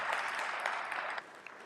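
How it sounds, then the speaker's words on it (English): An audience at a university student awards ceremony in Nairobi applauds, a dense steady wash of clapping hands that thins slightly toward the end. "You can clap for them."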